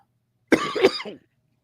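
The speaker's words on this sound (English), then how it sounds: "coughing up all kinds of stuff" A single short, wet cough bursts out close to the microphone, lasting under a second, followed by silence.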